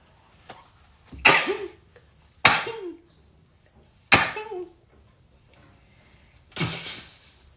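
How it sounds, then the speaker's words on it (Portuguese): Four sharp sneezes in a row, spaced a second or two apart, close and loud, with quiet pauses between them. "Eu vou espirrar, estou tentando não espirrar, mas não tem jeito."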